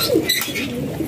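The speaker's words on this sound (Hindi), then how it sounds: "ये मोगला खेलना कबूतर एक और न्यू एंट्री ऐड की है" A pigeon coos softly in a brief low call, with faint bird chirps in the background.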